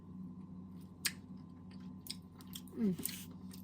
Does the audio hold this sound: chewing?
yes